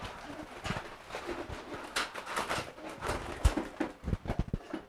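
Pigeons, including fantail pigeons, cooing softly nearby in faint low repeated calls, mixed with light wing flutters and shuffling.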